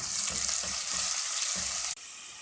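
Ginger garlic paste frying in oil with golden-browned onions for chicken kabab karahi, a steady bright hiss and sizzle with faint stirring scrapes, close and continuous.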